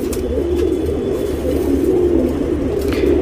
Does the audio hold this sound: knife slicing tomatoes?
no